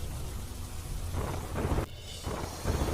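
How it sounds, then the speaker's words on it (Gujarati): Heavy rain pours steadily over a rural area of Junagadh district, water running across the roads, while deep thunder rumbles roll through the dense hiss of the downpour. "ગ્રામ્ય વિસ્તારમાં ધોધમાર વરસાદથી રસ્તા પર પાણી વહેતા થયા"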